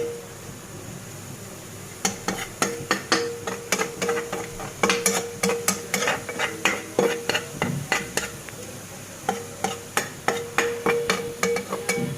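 Radish greens are stir-fried in a pan, with a soft sizzle underneath a rapid, repeated series of sharp spatula scrapes and taps against the pan, close and fairly loud.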